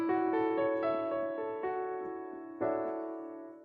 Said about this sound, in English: if I took all the notes in this opening chord and played them at a normal range